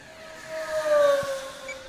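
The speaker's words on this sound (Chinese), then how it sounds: "全场就听见我这飞机在咆哮" Flightline Velocity 950 RC flying wing racing overhead in an inverted pass, a steady high-pitched motor whine with tones that bend and swell to a peak midway, then ease slightly, heard at a distance over wind.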